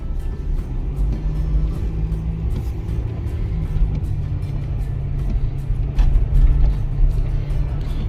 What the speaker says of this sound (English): Truck drives absolutely beautifully.